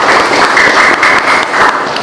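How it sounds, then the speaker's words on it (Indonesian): A welding class at a vocational school applauds, many hands clapping in a steady, close, loud burst. "Oleh sebab itu kita aplaus."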